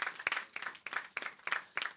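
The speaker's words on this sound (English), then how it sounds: "I want everyone present here to give you a round of applause" An audience at a talk on marriage and social media applauds: faint, fairly distant clapping in repeated rhythmic bursts, with no voices over it.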